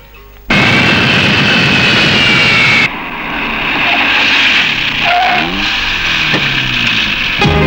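A fixed-wing airplane lands at an airport: a loud, close engine roar that cuts off sharply, then continues as a broad rushing drone with shifting tones, with no voices.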